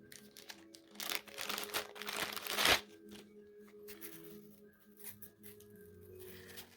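Plastic bags holding pieces of a 38-piece headlight restoration kit crinkle and rustle under handling, close-up bursts of crackling with a louder peak partway through.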